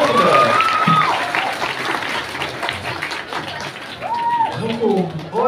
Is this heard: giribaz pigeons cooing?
no